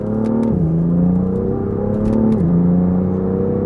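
BMW M2 engine at full throttle in fourth gear: a loud, close, rising drone with a quick dip at each shift, then climbing again, heard from inside the car.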